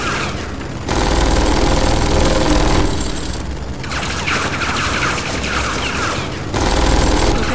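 Sustained gunfire from the video game Tales from the Borderlands, a dense, loud fusillade of rapid shots rolling continuously for several seconds with brief swells in intensity, no voices over it.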